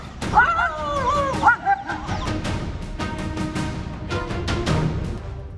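Street dogs in Chennai bark and yelp in a rough cluster of sharp calls, with one whining, wavering cry early on, all fairly close and loud over a busy background.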